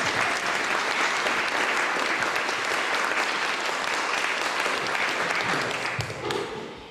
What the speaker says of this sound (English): they do deserve a round of applause